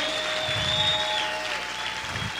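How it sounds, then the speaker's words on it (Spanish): A church congregation claps loudly for the Lord during a worship service. The clapping is steady and dense throughout, with sustained musical tones ringing beneath it. "Aplaude fuerte al Señor."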